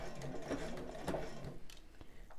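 A sewing machine stitches a bra seam in short bursts of quick, steady needle clatter, close and moderately quiet, with no speech.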